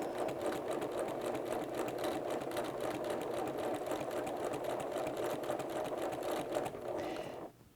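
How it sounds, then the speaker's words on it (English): Close, steady whirring rattle of a sewing machine zigzag stitching over a narrow strip of elastic for shirring, running continuously at an even pace before stopping abruptly at the end. "And now I'm going to start zigzagging on top."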